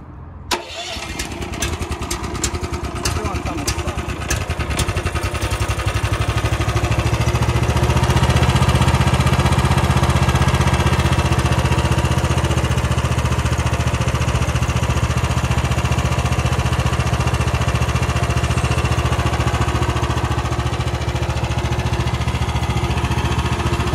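A MOTOR SICH single-axle walking tractor with a 13 HP engine cranks with a few quick pulls, catches, and settles into a loud, steady, close-up chugging run that continues without pause.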